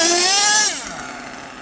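An HPI Savage XL RC truck with twin LRP .32 nitro engines screams loud and high at full throttle, then the pitch drops and the whine fades as it eases off.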